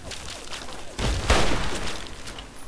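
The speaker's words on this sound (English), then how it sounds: "I have a feeling I'm being shot from behind" Gunfire hits the player from behind in Fallout 3, a rough crackling volley with heavy thumping impacts that swells midway and then trails off into noisy rumble.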